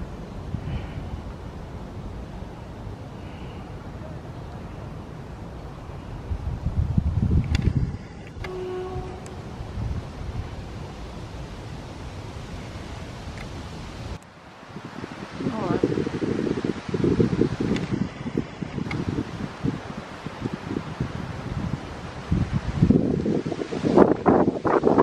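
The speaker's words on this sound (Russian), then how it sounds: "Какой ветер" Strong wind blusters during an outdoor walk, a continuous rushing, rustling noise that swells louder in the second half, with a few brief knocks and faint background sounds.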